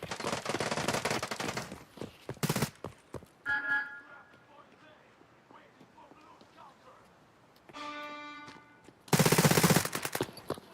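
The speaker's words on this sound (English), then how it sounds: "I have to keep using this AK though" AK rifle bursts in the Escape From Tarkov video game crack out in loud rapid volleys at the start and end, separated by a quieter stretch with tonal game sounds.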